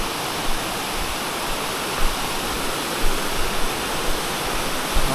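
Waterfall along the Appalachian Trail pouring with a constant loud roar and hiss, heard close up with a few faint splashy bumps in the flow and no one talking.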